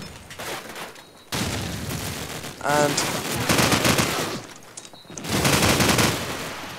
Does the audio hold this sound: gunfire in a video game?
yes